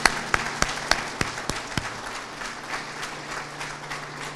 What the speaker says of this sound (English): Let's give everybody one more big hand